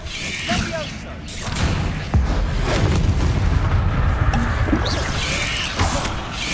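Spell blasts from Bombarda and Confringo in Hogwarts Legacy, a dense run of booming explosions and crackling impacts that stays loud throughout, with a sharp burst about two seconds in and spell-casting voices mixed in.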